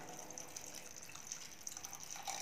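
About half a cup of water pours into a pan of matar makhani being cooked, a quiet continuous trickling splash with light dripping that swells slightly at the end.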